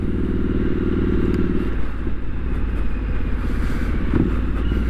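Triumph Street Scrambler 900 being ridden, its engine holding a steady throbbing drone with faint rattles and wind noise, loud and continuous with no talk.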